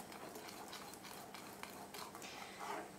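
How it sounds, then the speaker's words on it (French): Raspberry jam being stirred in a pot with a utensil, a continuous scraping, swishing stir with light clinks against the pot, steady and close, no voices. "Là, je continue de bien mélanger."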